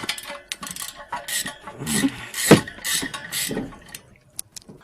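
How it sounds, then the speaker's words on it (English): Metallic ratcheting and clicking as a bolt is threaded in and done up on a VW Amarok, with short irregular bursts of mechanism noise and a sharper clack midway, close up and without talk. "start threading the bolt in"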